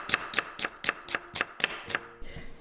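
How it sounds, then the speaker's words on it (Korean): A knife cuts a quarter onion into thin strips on a cutting board, giving eight crisp, evenly spaced chops in quick rhythm followed by a softer scrape, close up, with no speech. "양파는 4분의 1개 채 썰어 주시고요"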